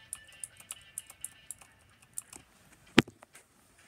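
Rapid Razer gaming keyboard keys clicking in an irregular typing rhythm, close and fairly quiet, with one sharper louder clack near the end.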